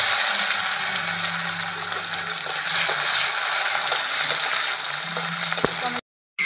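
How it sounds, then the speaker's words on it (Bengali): Chopped tomato dropped into hot oil with cardamom, cinnamon, bay leaf and cumin, a constant bright sizzle with light stirring clicks and a sharp scrape toward the end, then a sudden cut. "তেলে দিয়ে দিলাম টমেটো কুচি"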